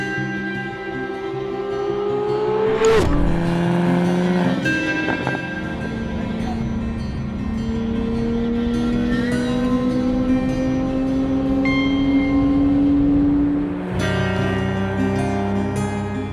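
A car drives during the Crown Rally South road rally from Chicago to Nashville, its engine humming steadily from inside the cabin and climbing in pitch as it accelerates, with sudden shifts in tone near the start and end.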